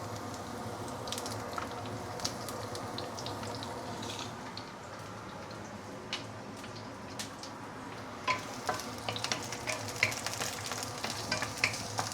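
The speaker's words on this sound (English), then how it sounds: "Right, let's fry the brinjal first." Brinjal (eggplant) fries in oil in a pan with a steady close sizzle, joined by scraping stirs and crackling spatters that grow busier toward the end; no voices.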